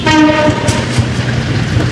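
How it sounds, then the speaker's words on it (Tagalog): A train passes a construction site near the Ramon Magsaysay Boulevard exit of the NLEX Connector, its horn sounding loud and sustained at first over the steady rumble and clatter of rail cars. "dadaan pala yung tren, kaya pala urgent na pagpapahinto"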